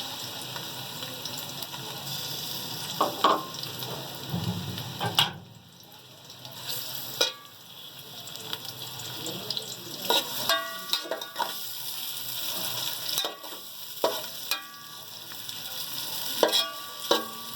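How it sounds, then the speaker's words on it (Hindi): Chopped ingredients browning in shallow oil for beef yakhni pulao, a steady sizzle with intermittent stirring scrapes and clinks of a utensil against the pot, no one talking. "काट के रखे हुए ये हम सबसे पहले हम ये ब्राउन करेंगे"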